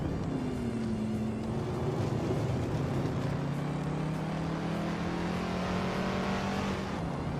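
A 1972 Ford Falcon XBGT race car in a racing video game holds a steady engine drone, its pitch sliding gradually downward then levelling off, with no talk.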